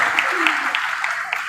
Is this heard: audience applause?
yes